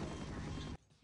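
A grenade explosion in Half-Life, with an enemy caught in his own blast: a loud, dense roar lasting under a second that cuts off abruptly, then a fresh burst starting right at the end.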